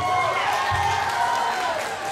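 Audience applause and cheering for the St. Anthony Parish Choir after its performance, a short steady wash of clapping and crowd noise at moderate volume, with no break.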